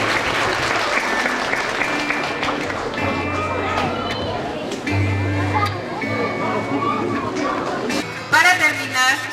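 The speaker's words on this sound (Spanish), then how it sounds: "aplauso para estos pequeñitos" A crowd applauds small children at a kindergarten closing ceremony in Ameyaltepec, Guerrero. Sustained clapping runs throughout, mixed with background music tones and voices, and swells louder near the end.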